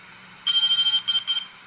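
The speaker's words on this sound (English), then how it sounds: "until you hear the beep." A DJI Air 2S drone gives a bright, steady electronic beep as it enters pairing mode, a long tone followed by two shorter ones, clear and close over a quiet room hum.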